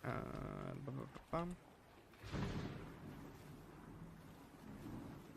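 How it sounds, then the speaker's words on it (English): Steady rain hiss swells in about halfway through and carries on with a low rumble like distant thunder, following a brief tonal passage. "A bit of rain ASMR."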